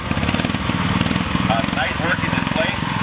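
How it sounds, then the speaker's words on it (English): McCormick Daring gas engines run at the Rollag steam threshers' show, a close, rapid, rhythmic putter with a steady beat, while people talk over it. "we got the McCormick Daring gas engines on"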